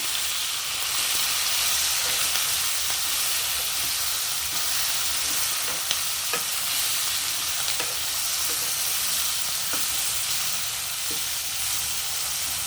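Chilli chicken frying in a pan, a steady, loud, close sizzle that holds without pause, with a few faint clicks from stirring.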